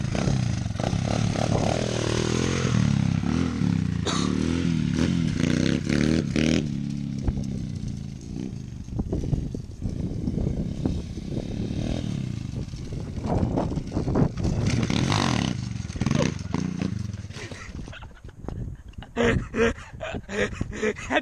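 A small pit bike engine revs hard and buzzes, climbing and dropping through raspy high-pitched pulls, loud and close for most of the stretch, then thinning out near the end with some clatter.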